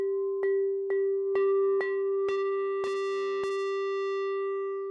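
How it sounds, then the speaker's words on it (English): A synth tone with gnarly tape saturation and age effects rings out in a series of about seven bright, bell-like struck notes that grow denser and more distorted, each one sustaining into a long, steady, loud tail. "Almost guitar-like distortion at that point."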